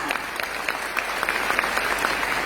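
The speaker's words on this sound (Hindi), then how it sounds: "जोरदार तालियां होनी चाहिए" At a wellness company event, an audience gives a burst of loud, dense clapping that holds steady from start to finish.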